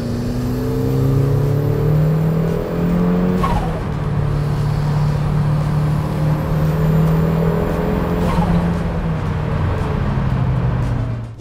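Mazda Miata fitted with competition engine mounts, flat shifting at full throttle: a loud, steady engine drone climbs in pitch, snaps through quick upshifts at two points, and keeps pulling without letting up.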